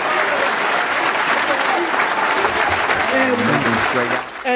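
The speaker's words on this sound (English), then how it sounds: "give the Honorable Minister Louis Farrakhan another round of applause." A crowd claps steadily in sustained applause, with voices rising over it toward the end as it fades.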